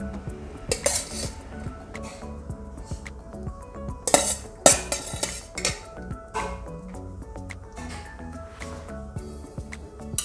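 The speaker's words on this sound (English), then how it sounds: "Now I'm going to add the colored rice." Colored rice being added to a fish biryani pot, with repeated clattering of utensils, metal clinks and scraping against the pot in uneven bursts.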